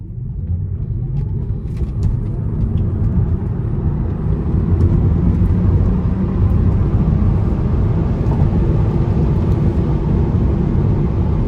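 2019 Tesla Model 3 Standard Range Plus accelerating hard from 50 to 80 mph, a steady loud low rumble of road and wind noise inside the cabin with no engine note, continuous throughout.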